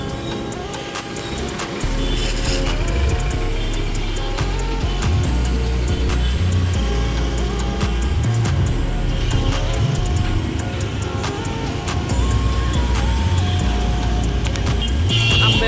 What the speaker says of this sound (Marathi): ट्रॉफिक बघा किती झालेली आहे गाड्यांची.